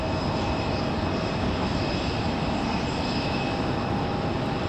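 Air France airliner jet engines roar steadily at Raleigh-Durham airport, a loud, continuous broadband rush with a thin, sustained whine riding on top, unbroken and without voices.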